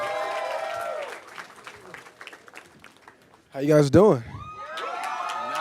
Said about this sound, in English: It's a slightly enthusiastic crowd.